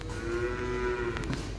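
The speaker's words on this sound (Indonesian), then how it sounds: "Itu ada sapi lahiran lagi." Cows moo on a farm where calves are being born, one long sustained low bellow carrying steadily through the clip with farmyard noise beneath and no talking.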